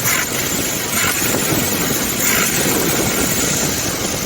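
A Suzuki Samurai engine runs steadily after a carburetor rebuild, its accelerator pump not working properly; a continuous, even idle drone holds at constant loudness with no talking.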